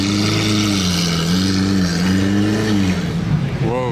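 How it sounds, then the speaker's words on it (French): A Lamborghini with an open Capristo exhaust, its engine holding a loud, deep, wavering drone that swells and settles, ending in a rising rev near the close. "y a l'échappement ouvert, là, en Capristo. Voilà. Vu le bruit, c'est normal."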